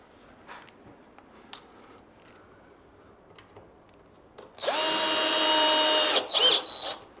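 A power drill drives a screw into a plastic sewing stand in one loud, steady whirring burst of about a second and a half, then a short second spurt, after quiet handling clicks.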